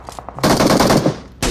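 Automatic gunfire in PUBG Mobile bringing down an enemy: a few light, quick shots, then a long, loud, dense burst of rapid fire, a short lull, and another loud burst at the end. No talking.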